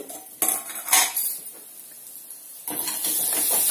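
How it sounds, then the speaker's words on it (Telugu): A metal lid is set onto a cooking pan of frying onions and green chillies, giving two clear clinks close by, followed by a steady hiss of cooking underneath. "ఇప్పుడు మళ్ళీ 1 నిమిషం మూత పెడతాను"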